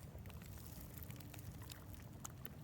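On calm, windless Liberty Reservoir, water laps softly near a boat, giving faint, close, irregular splashes and small drips over a low, quiet background.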